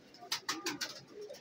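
An Ali wala breed pigeon at a Rawalpindi pigeon shop coos in a short run of four or five soft, close pulses.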